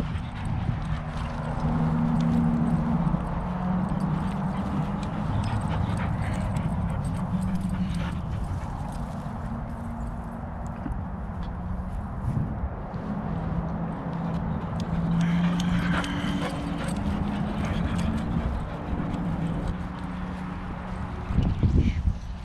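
A young horse, a filly, clip-clops along with steady hoofbeats amid outdoor rumble, while a dog whimpers and yips on and off nearby.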